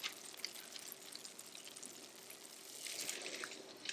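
Porous LECA clay pebbles being rinsed in a colander, water pouring and trickling through with a faint fizzing crackle as the pebbles absorb it, quiet and close, swelling slightly near the end.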